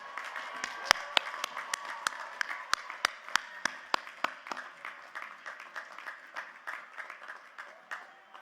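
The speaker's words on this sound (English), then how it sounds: "Let's give the class of 2020 a round of applause again." Applause from a modest crowd at a university commencement ceremony, with sharp individual claps standing out early, then settling into a steady patter of many hands that continues throughout.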